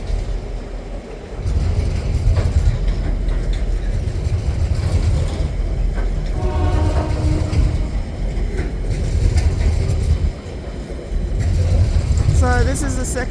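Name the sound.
passing train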